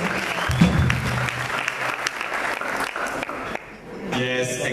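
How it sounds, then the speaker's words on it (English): A crowd at a freshers welcome party claps steadily in sustained applause, dense and even, with some voices and a brief lull near the end. "Can we all give a round of applause to our executive?"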